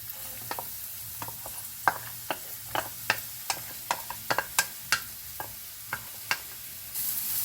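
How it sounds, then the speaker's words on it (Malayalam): Finely chopped onions sizzle in two tablespoons of hot oil, a quiet steady frying hiss broken by frequent sharp scrapes and taps of stirring, with no voices. "2 ടേബിൾ സ്പൂൺ എണ്ണ ഒഴിച്ചതിന് ശേഷം അതിലേക്ക് ചെറുതായി അരിഞ്ഞു വെച്ചിരിക്കുന്ന ഉള്ളി ഇടുകയാണ്"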